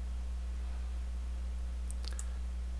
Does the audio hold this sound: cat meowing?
no